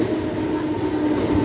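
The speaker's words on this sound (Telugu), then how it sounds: "ఆపోజిట్ ట్రైన్ సిఎస్టీకి వెళ్తుంది" A Mumbai local train rumbles past on the opposite track, a steady, close, dense roar of wheels and carriages throughout the short stretch.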